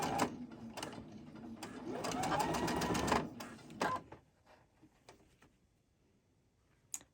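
A sewing machine with a size 12 needle stitches quilt fabric, a steady close mechanical whir and rapid ticking for a few seconds before it stops, leaving a few faint clicks.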